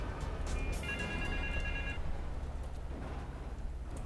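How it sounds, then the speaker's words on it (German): A telephone rings in Grand Theft Auto III: a short electronic ringtone trill sounds for about a second over a steady low ambient rumble, with no speech. "Nimm das Telefon ab."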